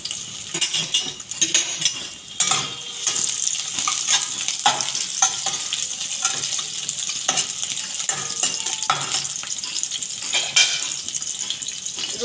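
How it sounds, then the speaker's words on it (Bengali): Chopped onions dropped into hot oil for an egg bhurji, frying with a steady close sizzle and bursts of stirring and scraping throughout, with a faint watery hiss alongside. "তেলটা গরম হয়ে গেছে, আমি পেঁয়াজগুলো দিয়ে দিলাম।"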